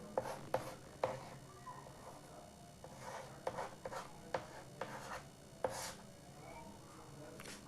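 Chalk or marker taps and strokes on a board during a chemistry lecture, a series of sharp faint ticks and short scratches in an uneven rhythm over a quiet room.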